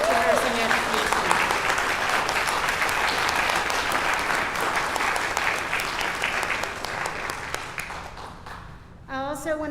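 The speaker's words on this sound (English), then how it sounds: "I would like to ask everyone to please stand and applaud these graduates" A standing audience at a spring nursing pinning ceremony applauds the graduates, a thick, sustained wave of clapping that tapers off before a speaker resumes talking.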